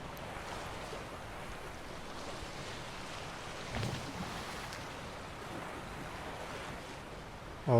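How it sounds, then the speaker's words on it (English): Water splashes and washes around a boat in The Witcher 3, a steady soft surf-like hiss with a brief louder swell midway and no voices. "all those water splashings."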